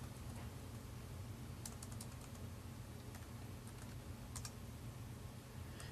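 Typing on a computer keyboard while entering program code, scattered soft key clicks over a steady background hiss, faint and close.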